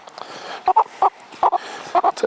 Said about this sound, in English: Got the chicken.